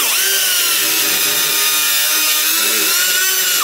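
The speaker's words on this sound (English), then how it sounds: "I've been using a die grinder." A die grinder whines loudly and steadily against a 1987 Oldsmobile Cutlass exhaust manifold, its high-pitched tone holding nearly constant before dipping slightly at the end, with no talking.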